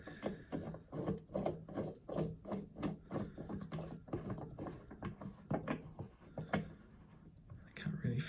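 Grohe 46374000 tap cartridge being threaded by hand into its fitting, giving a close, repeated rubbing and rasping scrape in short rhythmic strokes, with a voice talking over parts of it.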